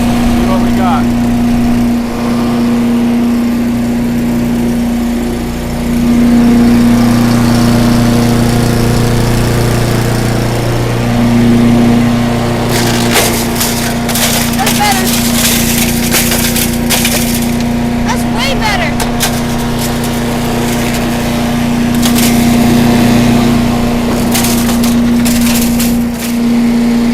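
A wood chipper runs steadily with a strong engine drone and constant hum, while bursts of cracking and splintering break in during the second half as wood is fed through.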